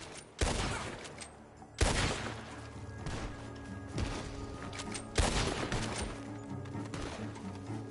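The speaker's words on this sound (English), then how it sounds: "The gunshots are coming from that barn." Several loud gunshots crack out at irregular intervals from a barn in Red Dead Redemption 2, over a dense, noisy background, with echoing reports between the blasts.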